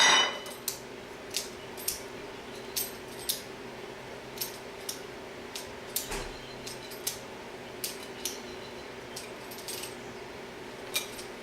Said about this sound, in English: I actually like to shave it, and the easiest way to do that is with a vegetable peeler.